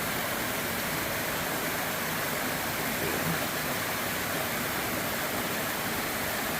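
A cascading waterfall along the Appalachian Trail roars in a steady, dense wash of rushing water, constant and close for the whole stretch with no voices.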